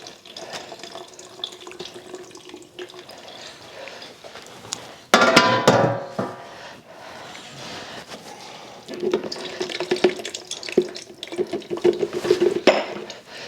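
Liquid meat drippings pour and splash through a strainer into a pitcher, a steady trickling stream with a louder gush partway through and clinks of utensils against the container.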